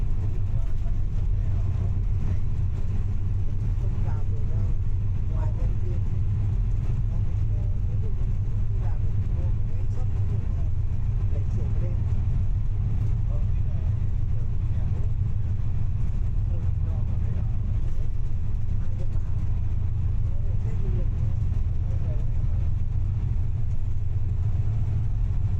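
Rural bus driving through central Vietnam, a steady low engine rumble and road noise from inside the vehicle, continuous and unchanging throughout with muffled background chatter.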